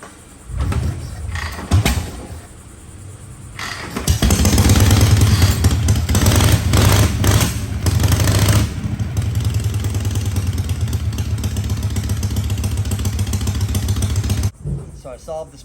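A kick-started Knucklehead chopper motorcycle with a Linkert carburetor and fully advanced timing, cranking with a few short kicks and then catching, its engine running loud and rough before settling into a steady idle, then cutting out abruptly.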